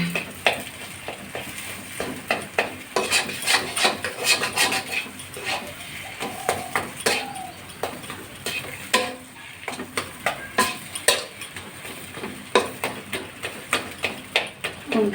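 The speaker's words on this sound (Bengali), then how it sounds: "আমি আর একটু নাড়াচাড়া করে নামিয়ে নেবো" Mashed drumstick leaves being stirred and fried in a pan, with irregular clinks and scrapes of a utensil on metal over a soft sizzle, and occasional faint background voices.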